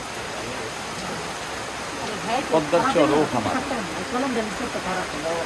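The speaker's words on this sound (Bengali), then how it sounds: "রিমঝিম বৃষ্টিতে আমরা অনেকে আটকে আছি এখন" Light rain falls while people shelter in a shop beside the Padma river chars, making a steady, soft hiss throughout. Someone talks over it midway.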